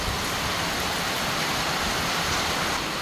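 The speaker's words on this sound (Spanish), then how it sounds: "Miren cómo está la lluvia, enojada." Heavy rain pours down in northern Nicaragua, a loud, steady, dense roar of falling water that never lets up, with no voices.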